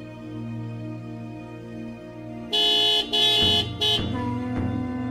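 A car horn sound effect honks in three bright blasts, two longer and one short, over a steady low droning bed, with no speech.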